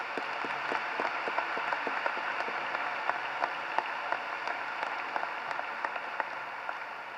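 A graduation audience at North Kingstown High School applauds class advisors with steady, sustained clapping from a large crowd in a big hall, individual claps popping out of an even wash of sound.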